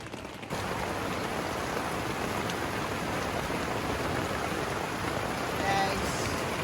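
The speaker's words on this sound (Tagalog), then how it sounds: "ulan kami rito" Heavy rain drumming on a tent at a campsite, a loud, dense, steady hiss that starts abruptly and continues unbroken, with faint voices underneath.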